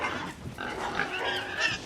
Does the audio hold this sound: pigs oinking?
yes